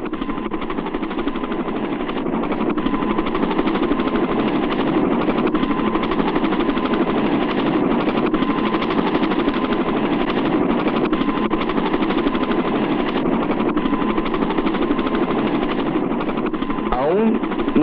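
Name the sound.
helicopters flying, in a film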